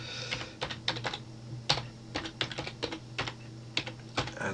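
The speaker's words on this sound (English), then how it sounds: "to do that we just type in our URL" Rapid, uneven bursts of keystrokes on a computer keyboard, close and clear, typing out a website address in quick clusters with short pauses between.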